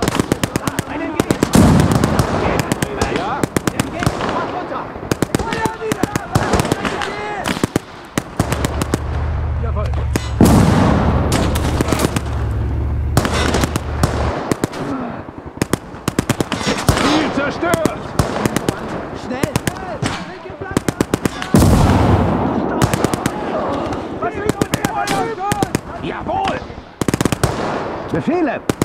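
Enemy gunfire in the Siege of Warsaw game, loud rapid machine-gun bursts and rifle shots crackling almost nonstop with occasional heavier booms, while voices shout over the firing.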